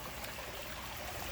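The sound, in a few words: small waterfall flowing into a backyard pond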